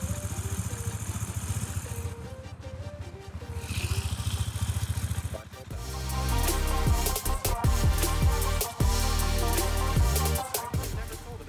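A Husqvarna Svartpilen 401 motorcycle engine idles with a steady rumble, then revs up louder and rougher, running close by with no talking.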